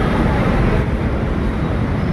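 A Kochi metro train arrives in a steady, loud, broadband rumble and rush that fills the station throughout, with no clear voices over it.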